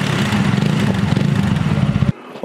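A close TVS Apache RTR 200 4V motorcycle engine on a highway top-speed run drones with a rough, throbbing pulse, then cuts off abruptly near the end, followed by a brief new burst.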